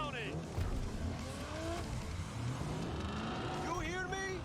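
In the Cyberpunk 2077 video game, race car engines rev and whine with shifting pitch and tire squeal, a busy loud mix with voices talking over it throughout.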